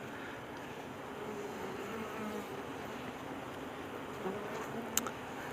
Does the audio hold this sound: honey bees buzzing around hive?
yes